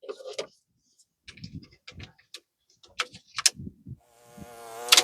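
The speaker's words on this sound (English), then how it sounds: "I've got a bee chasing me down." A bee buzzes around someone outdoors at a rifle match. Scattered clicks and knocks come first, then a loud, close, rising buzz swells near the end.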